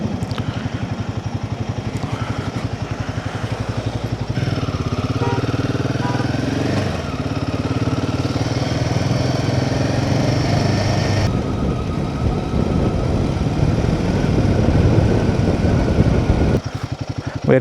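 A motorcycle engine hums steadily and loudly while riding a wet mountain road from Tawang toward Bumla Pass, a continuous close drone with slight shifts in pitch.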